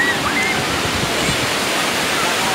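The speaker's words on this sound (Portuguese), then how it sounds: "Olha o marzão, tá vendo?" Constant roar of sea surf mixed with wind buffeting at Praia do Peró beach in Cabo Frio, loud and close, a broad wash of noise with no pauses and only faint voices in the background.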